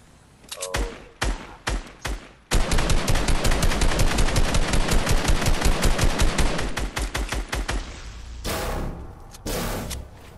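Loud gunfire while shooting gas tanks at a gas station in Fortnite: a few separate shots, then a long rapid automatic burst, then a pair of heavy blasts near the end, with no speech.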